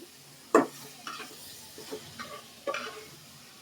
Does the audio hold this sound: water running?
no